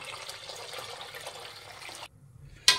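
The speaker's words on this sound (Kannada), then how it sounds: "ತೊಗರಿಬೇಳೆ ಬೇಯೋಷ್ಟು ಮಾತ್ರ ನಾನು ಇಲ್ಲಿ ನೀರು ಸೇರಿಸ್ತಾ ಇದ್ದೀನಿ." Water is poured into a pot of toor dal and tomato for cooking, a steady broadband splashing stream lasting about two seconds, then a pause and a brief sharp splash at the end.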